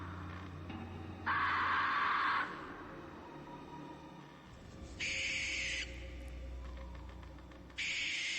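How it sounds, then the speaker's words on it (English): A Spirit Halloween Night Owl animatronic from the 2025 lineup hoots loudly in three separate sustained bursts, with quiet gaps between them and no voices. "Night Owl animatronic."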